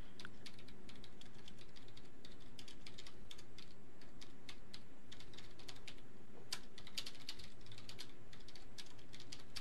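Steady, rapid typing on a computer keyboard clatters on without a break, with dense, uneven keystrokes close by and no talking, during an online Nullpomino block-stacking tournament.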